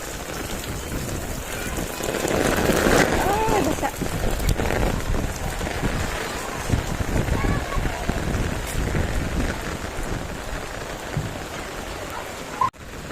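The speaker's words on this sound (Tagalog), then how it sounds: "Maulan na hapon." Steady afternoon rain falls continuously throughout, a dense hiss of drops on surfaces, with occasional voices talking under it and a brief sharp knock near the end.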